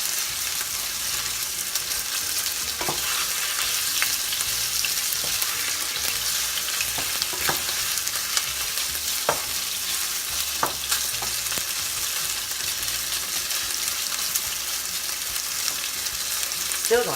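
Chicken searing in a hot pan for lo mein, a steady loud sizzle with occasional scrapes and taps of a utensil as it is stirred, no talk.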